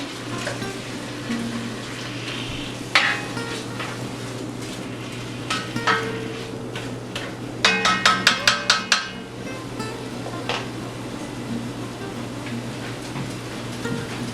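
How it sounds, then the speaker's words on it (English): Beef chili with chopped jalapeño is stirred in a pot. A spoon scrapes and clinks against the metal at intervals, with a brief cluster of rapid knocks midway, over a steady low background hum. "I'm going to stir it all around again."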